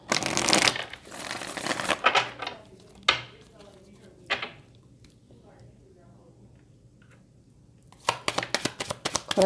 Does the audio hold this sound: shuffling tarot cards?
yes